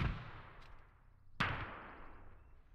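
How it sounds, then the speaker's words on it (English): Two auto cannon shots from the Gates of Hell video game ring out, each a sharp, loud crack followed by a long decaying boom, one at the start and one about a second and a half later, with no voices. "Is that a auto cannon I hear?"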